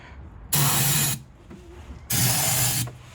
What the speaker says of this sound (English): So I'm going to go ahead and give it a quick spray.